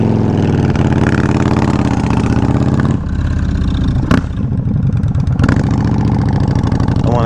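A Yamaha Warrior 1700 motorcycle idles loudly and close through its exhaust pipes. The rich, lumpy throb of the big engine carries on throughout, with a brief blip and a couple of small revs.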